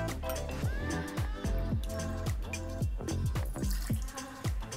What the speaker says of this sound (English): And now let's start to pour our first ingredient. So 30 ml of Ceylon Arrak.